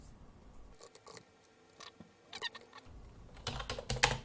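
Keys clatter on a computer keyboard as Linux update commands are typed, in short irregular bursts of close, crisp clicks with brief pauses, ending in a quicker, louder flurry.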